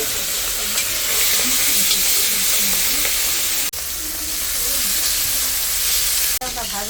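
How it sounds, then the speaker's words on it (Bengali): Pieces of prawn frying in hot oil in a home kitchen on a rainy day give a loud, steady, close sizzle that runs almost without a break, dipping briefly twice. "ভেজে নিই।"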